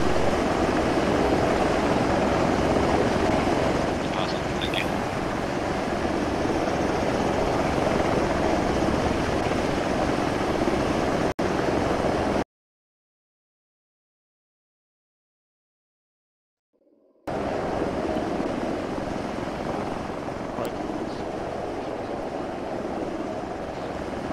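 A helicopter in the video game Arma 3 gives a loud, steady rotor and engine drone that cuts out completely for about five seconds and then resumes at the same level.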